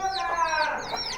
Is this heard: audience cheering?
no